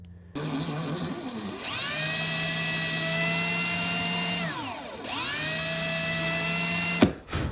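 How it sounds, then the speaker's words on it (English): A high-pitched electric drill with its smallest bit whines steadily up close, boring a small hole through a wooden fishing lure, slows and spins back up partway through, then cuts off abruptly. No one speaks. "the smallest drill bit that I can fit in the drill chuck, I'm gonna punch a little hole"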